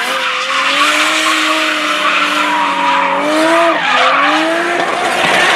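A Nissan 240SX with an RB26 engine drifts, its engine holding a steady high whine that dips and shifts as the tires skid and squeal continuously, loud and close, for the full run.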